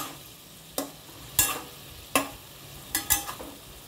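Butter frying in a pan while paneer dish ingredients are stirred, with sharp scraping stir strokes recurring every second or so over a soft, steady sizzle, close and fairly quiet.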